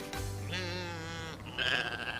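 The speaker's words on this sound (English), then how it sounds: "What sound does a sheep make?" Sheep bleating twice, a near, wavering call followed by a second shorter one, alone and moderately loud.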